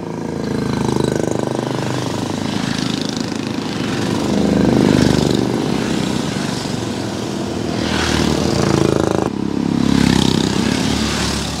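A continuous engine drone rises and falls, like Jawa and Yezdi vintage motorcycles approaching from a distance, with a steady rumbling hum throughout.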